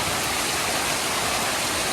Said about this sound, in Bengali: বৃষ্টি বেশি হইতেছে